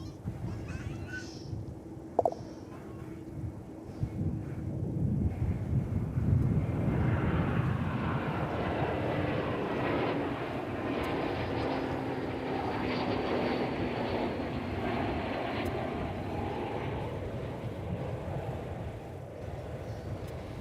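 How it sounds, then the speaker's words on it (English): An American Airlines Airbus A321 arriving from San Antonio lands at Dallas Fort Worth Airport, its engine roar building and then holding as a steady, broad rumble for about twenty seconds, heard from a distance. "It's an Airbus A321."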